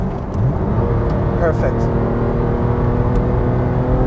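A Porsche 996 GT3 engine drones steadily from inside the car on the Nürburgring, held below full revs with a brief rise in pitch, while the driver says a single word over it.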